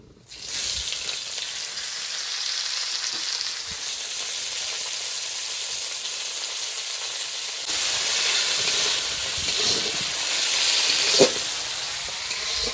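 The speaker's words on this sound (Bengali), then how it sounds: "এবার তেলের মধ্যে পেঁয়াজ কুচিগুলো দিয়ে দিব" Chopped onions dropped into hot oil with bay leaf, dried chilli and whole cumin for a meat curry, giving a steady, close sizzle and hiss that swells partway through and continues alone.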